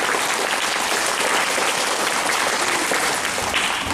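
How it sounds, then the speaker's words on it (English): An audience at a school chapel service claps loudly for sixth graders, dense continuous applause that holds steady throughout. "Let's give them a big round of applause."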